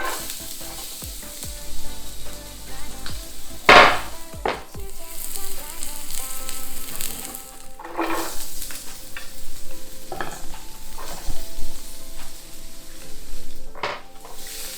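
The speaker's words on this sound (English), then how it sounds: "the garlic in there just to stir fry a bit, the ginger" Garlic, ginger and onion sizzle steadily in a hot pan for fried rice, with repeated scraping stirs and occasional clinks of a utensil against the pan.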